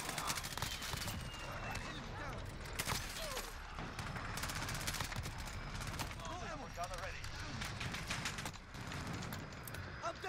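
Bursts of rapid gunfire crackle through a Call of Duty: Modern Warfare firefight, mixed with shouting voices and battlefield clatter at steady loudness throughout.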